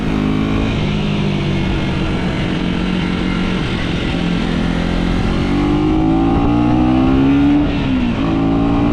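A 2025 KTM Duke 125 motorcycle engine drones steadily and then revs higher, with a breathy airbox intake roar riding over the low exhaust note, loud and close.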